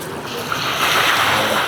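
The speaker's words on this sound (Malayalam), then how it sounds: "പല വള്ളങ്ങളും കടലിലേക്ക് പോകാനായിട്ട് അവർ കരയിൽ നിന്ന് തള്ളി നീക്കുകയാണ്" Sea surf washes steadily onto a Kerala beach as fishing boats are pushed off the shore into the waves, a broad continuous roar with wind buffeting the microphone and no talk.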